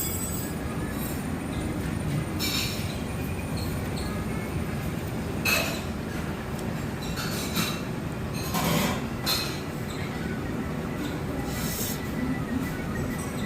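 A passing train rumbles steadily and loudly close by, with wheel and carriage clatter, brief bright screeches and hiss bursts across its length, with no voices.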